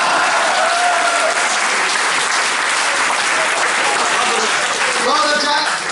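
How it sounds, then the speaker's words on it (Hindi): An audience breaks into loud, sustained applause, a dense wash of clapping that holds steady throughout with faint voices mixed in beneath it. "या तो तालियां बजा दो"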